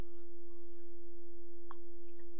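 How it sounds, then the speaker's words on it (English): A steady, pure sine wave tone holds at a constant pitch and loudness, with a brief faint blip near the end. "this is a sound wave with some frequency and some amplitude"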